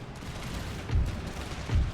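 Howitzers and cannons firing in the strategy game Empire 2, heard as two deep booms about a second apart, each a short low thump rising over a steady rumble of distant battle noise.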